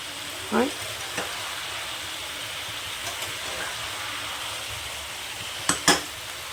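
Mixed vegetables for a light vegetarian curry sauté in a pan, giving a steady soft sizzle with a few scattered clacks of the spatula stirring, close and without talk.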